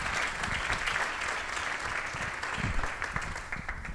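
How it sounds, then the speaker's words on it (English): Steady applause from an audience at a nonprofit awards ceremony, dense and continuous, moderately loud, with no one speaking over it. "Let's give her a big round of applause."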